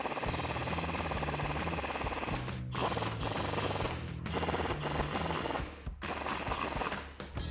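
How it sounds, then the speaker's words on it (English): A ratchet fitted with a 13mm socket clicks rapidly and steadily, close up, as strut nuts are tightened down on a 2011-2019 rear-wheel-drive Dodge Charger, with a few brief pauses between runs of clicking. "I'm gonna take a 13mm socket and tighten all of these down"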